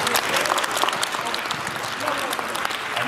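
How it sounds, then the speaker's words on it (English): A dense, continuous round of applause fills a Salvation Army community event in South Delridge. Many hands clap loudly and steadily, with crowd noise blended in. "give a round of applause to everybody here"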